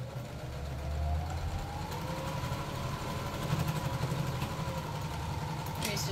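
A sewing machine stitches fabric in an artist's studio, a low, fairly quiet mechanical whir running steadily with background noise and no clear talking.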